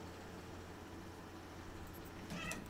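A playful house cat gives a short meow near the end, rising briefly over a steady indoor background hum after a long stretch of low noise.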